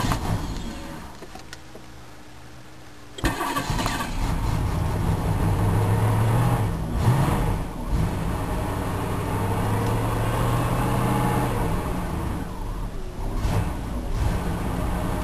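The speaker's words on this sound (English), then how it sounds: "the idle is so low that when it's cold it's gonna stall" A cold 1994 Cadillac DeVille engine idles unusually low, a steady rough rumble that carries through most of the stretch after a quieter start, with no talk over it.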